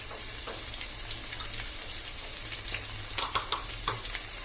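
Onions fry in a pan for chicken pakoda dum biryani, a steady crackling sizzle with a low hum underneath and a few sharper spits and clinks toward the end, no voices.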